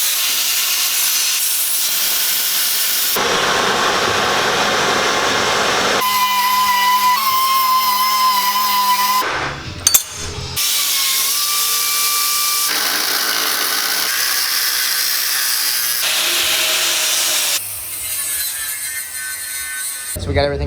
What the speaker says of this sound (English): we're gonna cut this flange completely off the manifold